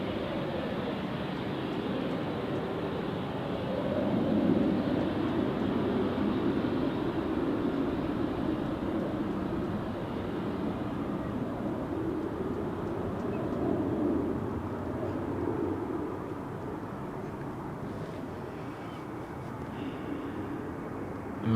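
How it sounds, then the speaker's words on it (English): An Embraer 195-E2 jet rolls past at Amsterdam Schiphol's Polderbaan runway, giving a continuous low engine rumble and whine that swells and fades over about twenty seconds, heard from a moderate distance. "The last one, this one, the Embraer 195,"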